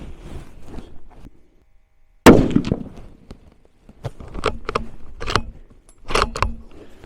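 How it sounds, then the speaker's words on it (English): A rifle with a Vortex Razor HD Gen III scope and Timney Elite Hunter trigger firing at 100 yards, one sharp loud shot followed by bolt-action clatter and handling noises, no talk. "Now I'm gonna shoot a 3-shot group."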